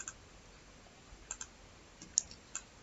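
Soft taps in The Sims Mobile as the stove is clicked, a handful of faint, sparse clicks over a quiet background.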